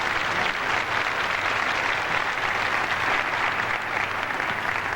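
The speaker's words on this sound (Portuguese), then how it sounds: "Tom Hanks aplaude" Large audience applauding at the 1989 Oscars ceremony, a dense, steady roar of clapping that holds for the full five seconds with no voices over it.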